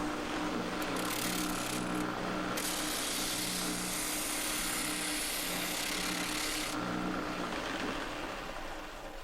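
A homemade wooden 2x72 belt grinder runs with a steady whirring drone, and for several seconds a drywall screw is pressed against the belt, adding a loud, bright grinding hiss that cuts off as the screw is pulled away.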